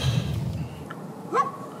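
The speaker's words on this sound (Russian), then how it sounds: "Никогда лай собак не был столь гармоничен с окружающей действительностью." A dog barks in a quiet residential street in Muskogee, Oklahoma, a single bark standing out clearly over a low ambient hum with faint background noise.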